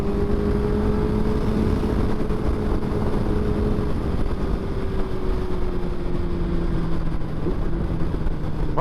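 A motorcycle engine on a road ride holds a continuous, loud drone under heavy wind rush, its pitch easing slightly lower over several seconds, with no talking.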